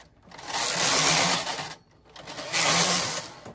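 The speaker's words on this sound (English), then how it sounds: "Ready for the lace carriage." A Brother 940 knitting machine's lace carriage knitting an alpaca scarf, two loud close sweeps of rushing mechanical whir separated by a brief pause.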